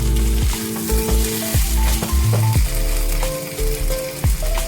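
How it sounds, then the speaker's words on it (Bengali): Water poured into a hot pot of rice for a green pea pulao sets off loud, bubbling sizzling, with rough ratcheting and scraping bursts through a continuous hiss and no talking. "এবার এই যে জলটা দিয়ে দিচ্ছি দেখো ঠিক যতটা চাল তার ডবল জল"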